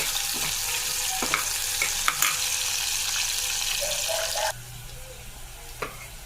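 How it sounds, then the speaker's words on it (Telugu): Green chillies fry in oil in a pan, a bright crackling sizzle with a few clinks from stirring, loud and close before dropping abruptly to a quieter simmer near the end. "రెండు పచ్చిమిర్చి వేసి బాగా వేగనివ్వాలి."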